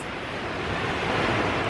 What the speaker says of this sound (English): the waves are literally right in front of me